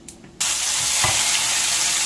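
After a brief quiet moment, ground spice paste hits a hot pan and a loud, steady sizzle takes over, with a faint clink partway through.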